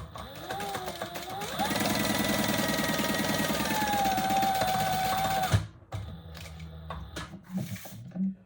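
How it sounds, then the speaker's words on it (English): A sewing machine runs a bag seam along a chalk line, sewing up and back down on a bowler bag. The motor speeds up to a rapid, steady whirring, then stops, followed by quieter handling sounds and soft clicks. "just do a chalk line and sew that up and back down"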